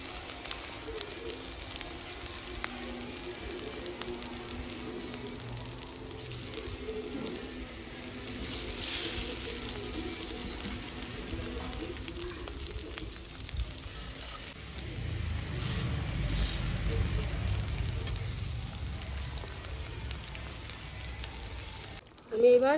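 Pomfret fish going into spiced oil and water in a pan, a steady low sizzle and bubbling that holds throughout and swells toward the end, with a voice talking over it.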